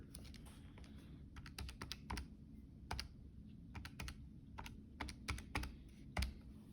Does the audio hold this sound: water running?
no